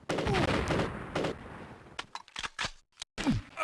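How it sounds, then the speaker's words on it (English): A quick volley of video game gunshots, several sharp separate bursts with brief silences between them, following quieter sounds at the start. "That is not how that gun sounds."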